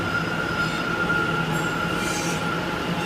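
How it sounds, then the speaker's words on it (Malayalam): A newer, clean New York City subway train in motion, a loud steady rumble from inside the car with faint wheel squeal and rail noise, without any talk. "ഇത് അത്യാവശ്യം പുതിയ മെട്രോ ആയിരുന്നു കേട്ടോ നമ്മൾ കയറിയത്"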